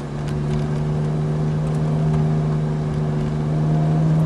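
A Ferrari 458 on the Montlhéry track pulls hard under acceleration, a steady loud engine drone with strong low harmonics held close and continuous throughout.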